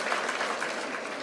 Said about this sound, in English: A huge round of applause for our supportive resource person speakers.